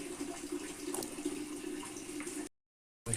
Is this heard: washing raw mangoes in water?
yes